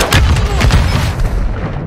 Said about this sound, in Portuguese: A bomba.